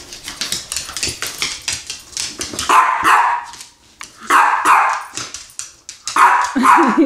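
A puppy barks repeatedly in quick, sharp, close bursts, with short pauses between volleys and a few higher yips.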